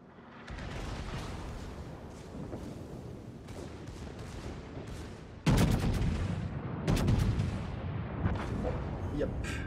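The Scharnhorst battleship fires its guns in a World of Warships naval battle: a sudden heavy salvo booms out, followed by another burst of blasts over a rumbling battle backdrop, with faint talk beneath.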